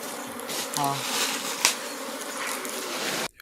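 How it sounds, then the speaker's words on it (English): A swarm of bees hovers around a man's body, making a dense, continuous close buzzing drone with a brief whine and a sharp click partway through, then cutting off abruptly at the end. "the rest of the swarm of bees hover around him and create an armor-like suit."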